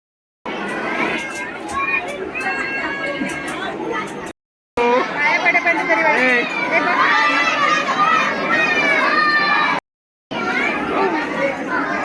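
A large crowd packs Siddhivinayak temple in Mumbai on New Year's morning, a dense, continuous babble of many voices with children's shouts mixed in, close around the listener and steady apart from two brief cutouts.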